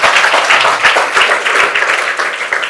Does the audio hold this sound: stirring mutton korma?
no